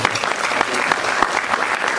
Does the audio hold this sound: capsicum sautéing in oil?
no